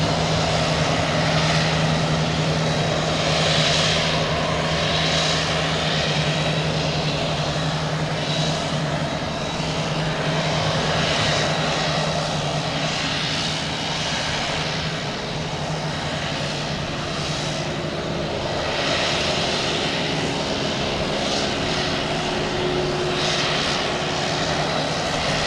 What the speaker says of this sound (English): This Boutique Air in front of us is making a little racket.